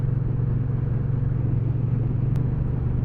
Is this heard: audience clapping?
no